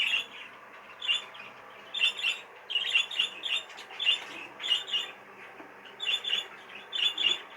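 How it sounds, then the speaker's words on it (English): A young show bird gives repeated short, high squawking calls in irregular bursts, fairly close but not loud, over a quiet background with no talking. "Still only a young bird."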